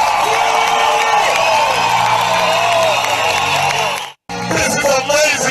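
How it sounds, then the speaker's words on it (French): Large congregation at a religious gathering breaks into sustained applause and cheering with whoops, loud and dense, briefly cutting out before resuming under overlapping voices. "Applaudissons au Seigneur."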